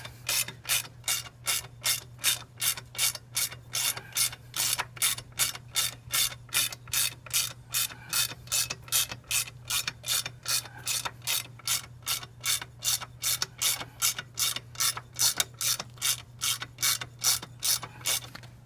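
Ratchet wrench clicking in fast, even pulses as long bolts spin out while an engine guard is removed from a Yamaha XSR900 motorcycle, a close, steady mechanical rattle over a low hum with no talking.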